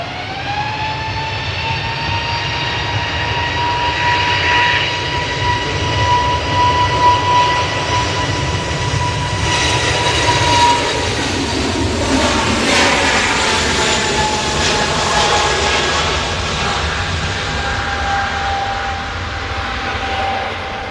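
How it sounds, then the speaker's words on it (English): EasyJet Airbus A320neo jet departing Manchester Airport, a loud sustained engine roar with a steady whining tone that swells and then slowly recedes, with no talk. "It was an EasyJet A320 Neo going to Paris."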